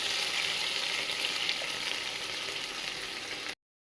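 Koorka (Chinese potato) fries in a pan with onion and garlic, making a soft, continuous sizzle and hiss at low volume. It stops abruptly near the end.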